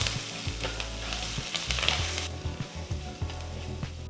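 Mustard seeds, cumin, asafoetida, fresh curry leaves and chopped ginger frying in hot oil for ragi upma, a steady close sizzle with crackling pops and occasional stirring clatter, no talking.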